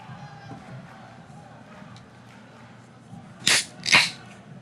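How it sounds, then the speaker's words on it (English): A can of Ray's Energy drink cracks open in two sharp, close pops, first the tab snap and then the fizzy hiss, heard over a quiet room. "What you just heard was me cracking open a Ray's Energy."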